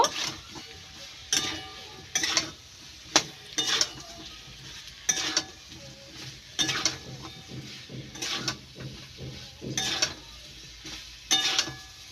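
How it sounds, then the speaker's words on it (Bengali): Fried potatoes and cauliflower stirred in hot spiced oil in a pan, a spoon scraping and clattering in repeated strokes over a steady sizzle, close by and without voices. "এইবার ভেজে রাখা আলু আর ফুলকপি দিয়ে ভালো করে কষিয়ে নেব।"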